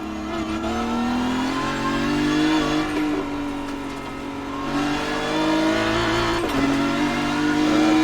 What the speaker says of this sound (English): Over the line to start another lap goes the BMW